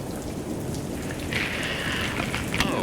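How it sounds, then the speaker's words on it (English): Heavy rain pours down steadily during a storm with flooding near Arapahoe, Colorado, a dense continuous wash of drops hitting surfaces, rising slightly louder partway through, with no voices. "it is pouring down rain here"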